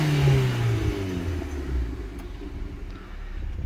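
A small car with 158,000 miles on it runs with a steady mid-pitched engine drone that rises briefly at first, then settles into an even hum with no voices.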